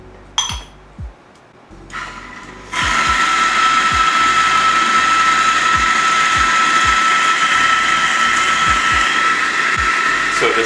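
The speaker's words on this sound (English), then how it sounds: "I'm using the Eureka single dose, set quite finely." A Eureka single-dose coffee grinder set fine for espresso starts with a few clinks and knocks, then settles into a loud, continuous high whirring grind with faint ticking, and no one speaks.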